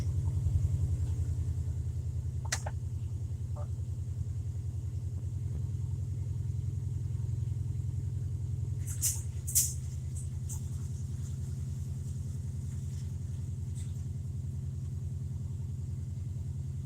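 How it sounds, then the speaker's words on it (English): Car engine idling in a garage as it warms up and settles, giving a steady low rumble throughout with a few faint clicks and taps close by. "Let this car finish warming back up and stabilizing."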